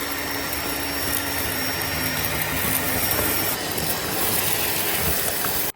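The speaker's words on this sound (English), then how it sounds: "Now we're going to test out the Pet Turbo Eraser." A Bissell Pet Eraser Turbo vacuum cleaner runs at a steady, loud, close whine and roar for several seconds, then cuts off abruptly at the end.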